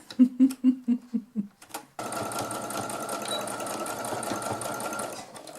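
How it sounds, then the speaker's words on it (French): Sewing machine stitching a fabric baby comforter toy, a quick run of about seven loud rhythmic stitch pulses, then a steady continuous whirring hum of fast stitching that runs to the end. "je vais repasser un bon point de couture pour être sûr que ma tête elle tienne"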